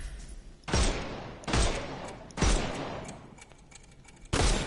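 Gunshots in a Sherlock Holmes video game as enemies' armor is shot off: four loud, sharp reports spaced about a second apart, each with a brief decaying tail, over a quiet background with no talk.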